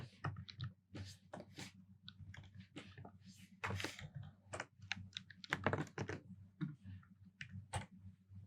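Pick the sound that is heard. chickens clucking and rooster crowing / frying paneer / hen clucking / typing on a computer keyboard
typing on a computer keyboard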